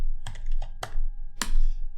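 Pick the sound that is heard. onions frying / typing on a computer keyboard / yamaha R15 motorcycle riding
typing on a computer keyboard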